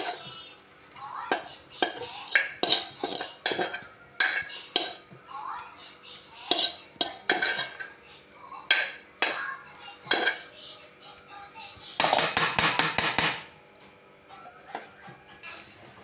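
A spoon scrapes cooked spring onion paratha filling onto a plate: a long series of close, sharp metallic clinks and scrapes in irregular rhythm, with a dense rattling burst near the end before things quiet down.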